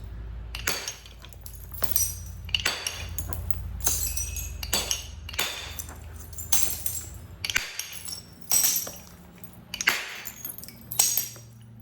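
A stone hammer striking a massive flint boulder during flintknapping, sharp glassy cracks and clinks landing in an uneven series of about a dozen blows, close and crisp with short ringing tails.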